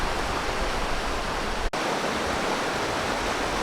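A river rushes through a gorge as a dense, steady roar of water, loud and close, with one brief dropout partway through.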